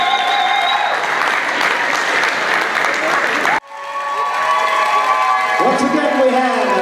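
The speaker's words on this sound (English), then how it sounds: "there is a big round of applause for couple number two, Axel and Chelsea." A ballroom audience at a televised dance competition breaks into loud, sustained applause and cheering for a dance couple, then the sound cuts abruptly to a noisier mix of cheering and whoops.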